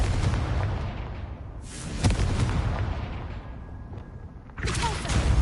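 A Confringo fire spell in Hogwarts Legacy bursts with a loud blast at about two seconds, then a fiery rumble fades, and a second loud burst follows near the end over constant low game ambience.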